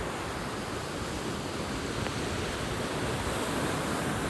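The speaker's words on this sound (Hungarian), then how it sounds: "Itt van a Bartang. Egész tekintélyes kis folyócska." The Bartang river in Tajikistan, near the Afghan border, rushes in a steady, broad, even roar that fills the whole scene without pause.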